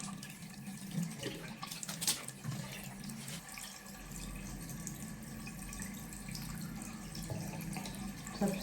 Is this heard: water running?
yes